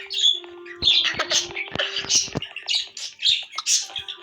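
Repeated harsh bird squawks and chirps from a video game in quick bursts, fairly loud and close, with a steady low hum underneath.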